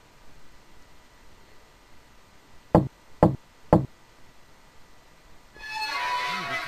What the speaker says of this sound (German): Ich schlage mit dem Stock dreimal gegen den Baum.